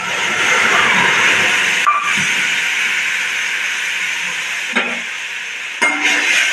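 Boiled food hits a hot pan of crackling mustard seeds, setting off a loud, continuous sizzle and hiss that carries on steadily with a few brief breaks, nearby and dominant.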